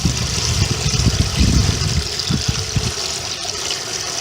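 Maple sap poured into a boiling pan for syrup making, a loud continuous gushing splash with low churning bursts that eases into a steadier trickle toward the end.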